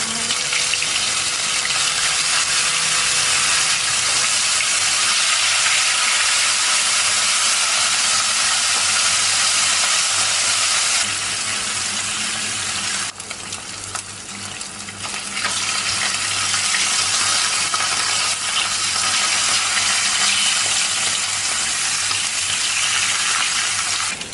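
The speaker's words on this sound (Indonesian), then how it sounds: "Kalau sudah panas, kita akan goreng ikan asinnya terlebih dahulu ya." Salted fish frying in hot oil in a wok gives a loud, continuous sizzle and hiss that holds steady, dips briefly near the middle, then returns at full strength, with no one talking.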